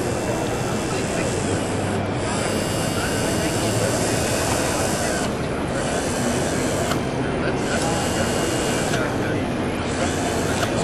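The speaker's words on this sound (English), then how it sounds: "now I can actually control the motors" A loud, steady whirring roar of electric motors runs continuously under Jaguar motor controllers, with a few slight dips in intensity.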